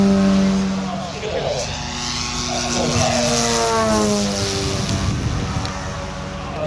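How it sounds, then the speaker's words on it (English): Electric outrunner motor in the nose of a giant scale RC model glider at an RC model air display, droning loudly and steadily with shifting pitch as the aircraft passes, with a voice talking over it throughout. "This model is equipped with a linear motor in the nose."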